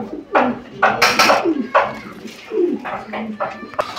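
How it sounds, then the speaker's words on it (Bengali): Pair of gola pigeons cooing in a low, throaty series of repeated calls, close and fairly loud, with other bird sounds and possible voices in the background. "আপনারা দেখতে পাচ্ছেন একজোড়া গোল্লা কবুতর"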